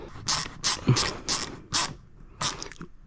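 Ratchet tightening bracket bolts on a PowerBronze belly pan fitted to a Ducati Monster 937, a run of about six quick, close clicking bursts in an uneven rhythm with brief pauses between them.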